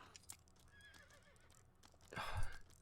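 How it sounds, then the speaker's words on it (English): Horses neighing in the background of the video game The Lord of the Rings: The Return of the King, a short whinny with hoof clops, growing louder toward the end. "there's those horses in the background"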